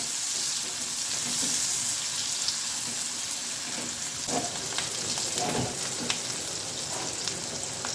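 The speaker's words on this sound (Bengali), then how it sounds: "এগুলো একসঙ্গে ভালো করে লাল করে ভেজে নেব।" Chopped onions fry in a pan for an okra dish, with a continuous crackling sizzle and a few stirring scrapes, fairly close and alone.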